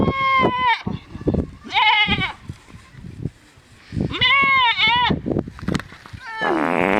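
Goats bleat in several loud, wavering calls close by, in bursts separated by short pauses, with rustling and handling noises between them.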